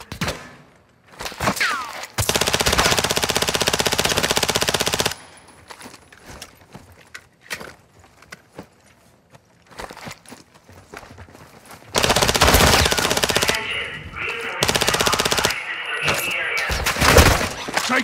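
Loud, sustained machine gun bursts from Call of Duty DMZ rattle in several long volleys separated by quieter gaps with scattered single shots and clatter, close and dominant throughout.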